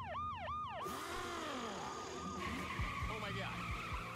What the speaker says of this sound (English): Flip on that siren for me, Jimmy.